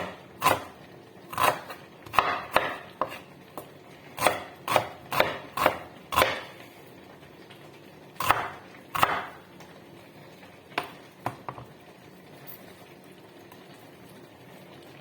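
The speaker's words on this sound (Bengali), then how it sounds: "পেঁয়াজটা যেহেতু একটু বড়, তাই আমি মাঝখানটা ফাইয়া নিলাম।" A knife chops through a large onion on a board, a series of sharp, irregular knocks close by, some in quick pairs and others spaced apart, with a quiet background and no talking.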